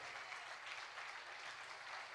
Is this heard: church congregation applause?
yes